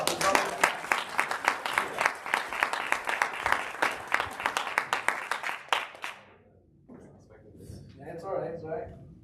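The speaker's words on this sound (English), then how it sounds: "Let's give him another round of applause." A crowd's rhythmic clapping rings out loud for about six seconds at a Super Saturday event, then cuts off, leaving quiet room sound and someone talking.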